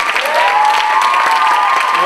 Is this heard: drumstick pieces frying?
no